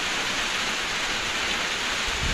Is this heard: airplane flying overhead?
no